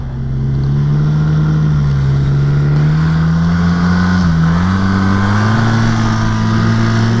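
Several new snowmobiles pass along a snowy trail at -3 °F, a continuous loud engine drone with shifting pitch that rises and dips as the machines go by, with no talk.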